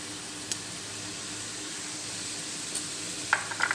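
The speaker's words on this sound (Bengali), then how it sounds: "এবার আমি একটু কাশ্মীরি লঙ্কা গুঁড়ো দিয়ে দিচ্ছি।" Kashmiri chilli powder sizzling in hot oil in a pan, a steady, fairly quiet frying hiss throughout, broken by a few soft clicks and scraping stirs near the end, with no voices.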